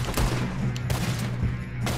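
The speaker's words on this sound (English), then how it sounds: "Yeah, here comes a shot." Gunfire in the Western video game Red Dead Redemption 2, a few sharp close shots in quick succession over a low rumbling game backdrop.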